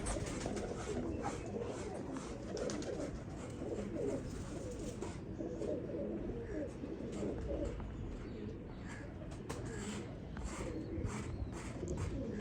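Pigeons coo softly and repeatedly over a steady background hum, with murmuring bird sounds continuing throughout.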